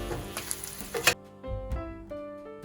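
Vegan sausages stirred back into a pot of Guyanese vegetarian pepperpot, with a few close scraping and clunking bursts and a light sizzle, no talking.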